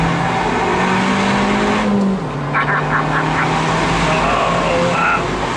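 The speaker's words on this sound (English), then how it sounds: "that exhaust sounds wicked." Abarth 695 Rivale hot hatch with a sporty exhaust pulling hard through a corner, a loud steady engine drone that drops in pitch partway through, with brief crackles and pops layered over the continuous rumble.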